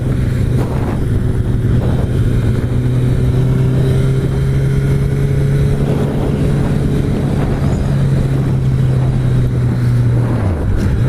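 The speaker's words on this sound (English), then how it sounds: "Freaking traffic, man." A Suzuki GSX-R sport motorcycle engine drones steadily from the rider's position in road traffic, holding a constant hum with slight pitch shifts, wind rush over it, and the tone dropping sharply at the very end.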